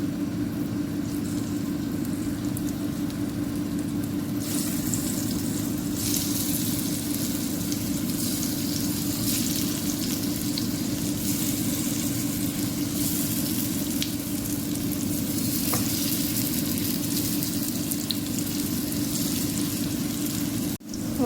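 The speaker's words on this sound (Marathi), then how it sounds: "तेल गरम झालेलं आहे, वडी परतून घेऊया आपण।" Aloo vadi slices shallow-frying in hot oil, a dense continuous sizzle and crackle holding steady and fairly loud, with a low background hum beneath and no voices.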